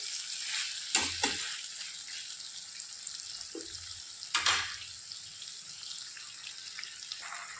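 Chicken bhuna masala cooking in a pan, with a steady soft sizzle throughout and a few brief clanks and stirs of a utensil against the pan.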